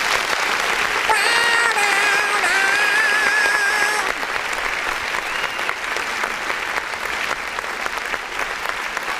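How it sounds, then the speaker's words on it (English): A crowd applauds at a live music review show, steady dense clapping close by, with a few whistles and cheers near the start before the clapping continues more thinly. "let's give a round of applause."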